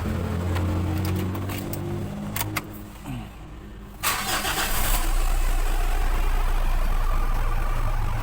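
A Mitsubishi car engine cranks and catches, then settles into a steady, loud idle close by, with no one talking.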